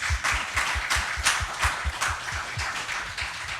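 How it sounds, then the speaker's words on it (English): Audience at an Oregon City candidates forum applauding city commissioners, a moderate steady patter of many hands clapping with a few sharper, louder claps standing out, close and continuous throughout. "let's give them a round of applause"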